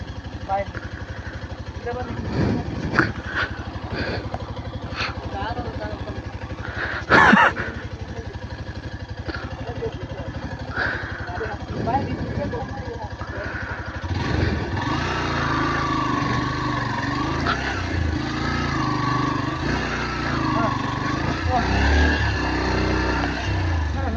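A motorcycle labouring along a rough hill road, its engine droning and revving unevenly over about twenty seconds with bumps and rattles, someone talking over it throughout.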